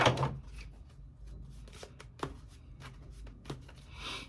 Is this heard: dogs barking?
no